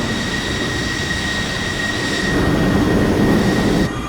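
F-14B fighter jet engine idling in Microsoft Flight Simulator, a steady loud roar with a high whine on top, holding constant and swelling slightly before dropping near the end.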